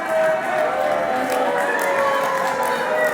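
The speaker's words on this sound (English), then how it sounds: "there are people here that are cheering for Steve Arsenal" Wrestling arena crowd at an independent show, a steady wash of cheering and shouting that fills the whole clip, loud and continuous with no single voice standing out.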